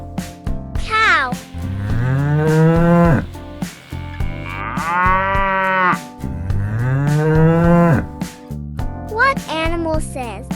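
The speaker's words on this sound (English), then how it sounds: "Cow." Several long, loud cow moos, each a drawn-out bellowing call with a short pause between, stand alone with no talking.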